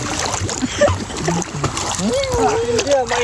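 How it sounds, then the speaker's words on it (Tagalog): People bathe in an old outdoor swimming pool filled with lukewarm spring water, splashing steadily while voices call out over the continuous, nearby sloshing. "Ngayon nyo lang po makikitang maligo si Cobra King."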